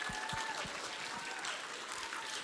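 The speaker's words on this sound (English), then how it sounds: "So if you could give them a round of applause." Audience applause for award recipients at a Royal Rangers and Girls Club awards event, a dense, steady wash of clapping across the whole stretch with a faint tonal hum and a few low thumps near the start.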